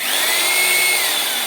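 A power drill bores a hole into a wooden low stool being built, giving a short, steady, loud whine held at one even pitch throughout.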